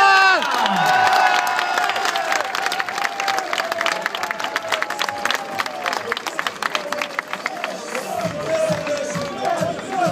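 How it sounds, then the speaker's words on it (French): A crowd at a Belgian football club's open fan day applauds and cheers a player, the clapping building steadily under a music bed with sustained tones, some shouts rising above it. "Applaudissements pour Henderson Thomas"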